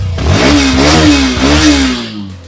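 A Hero Xtreme 125R motorcycle's 125cc engine revs up twice, loud and close, its pitch rising and falling with each twist of the throttle.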